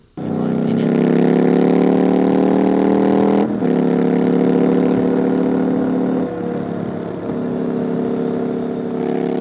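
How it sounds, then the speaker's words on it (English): Triumph Scrambler 1200 motorbike accelerating and going past, a loud throbbing engine note that rises, dips briefly as it shifts, then carries on steady and strong, with no voices. "so you can actually hear the bike as it's going past"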